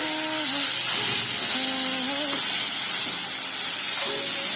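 Dried meat and masala spice mix fry in a pan with tomatoes releasing oil, making a continuous close sizzle with a few brief whining tones over it.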